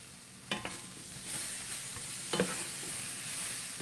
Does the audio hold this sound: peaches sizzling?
yes